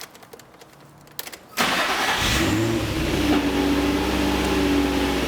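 Car engine started by a Viper remote starter: faint clicks, then the engine cranks and catches at about 1.5 s and settles into a steady, close idle.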